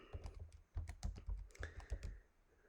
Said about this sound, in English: I'm just going to type that into my calculator